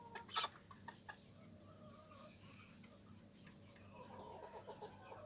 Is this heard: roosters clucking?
yes